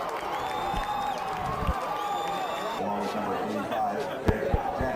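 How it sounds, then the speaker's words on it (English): A crowd of high school football fans at a Thursday night game, Narbonne against the Gauchos, cheers and chatters with broad roaring noise and scattered claps, while a commentator talks over it. "The fans here are excited, and electric crowd tonight."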